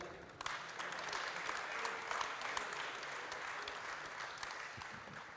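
Sustained applause from a conference audience at a national ambulance and medical transport convention in Reims, a steady dense patter of many hands clapping, fairly distant and even throughout.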